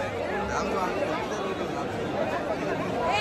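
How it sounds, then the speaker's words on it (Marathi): Busy crowd hubbub outside Kashi Chaat Bhandar, a street food stall in Varanasi, a continuous wash of overlapping voices and street noise at an even level with no single speaker standing out. "तर ही आहे गर्दी."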